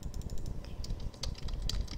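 Quick typing on a computer keyboard as a short quiz name is entered, light clicks over a steady low background hum, no voice.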